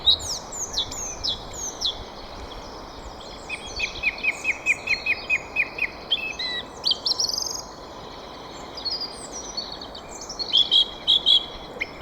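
A song thrush singing outdoors, its phrases repeated in quick bursts of clear whistled and chirping notes, with a steady insect or ambient hiss beneath and no talk.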